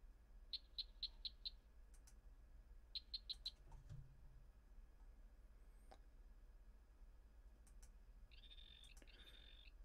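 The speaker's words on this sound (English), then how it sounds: "Trying to make the cricket sound effect a reality, and these are the strangest sounding cricket sound effects I've ever heard in my life." Strange-sounding cricket chirping sound effect: quick bursts of five and then three high, evenly spaced chirps, followed by a pair of longer warbling trills, all fairly faint over a steady low hiss.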